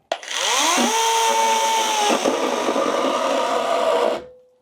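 A STIHL GTA 26 or ProCraft PKA 45 battery mini chainsaw whines loudly as it cuts under heavy load, its pitch dropping as it strains, then winding down and stopping after about four seconds.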